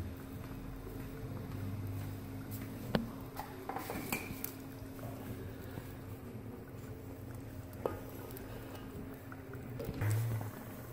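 Chicken koftas added to a simmering pot of curry, with soft clinks and knocks of a spoon against the pan scattered through a quiet kitchen background.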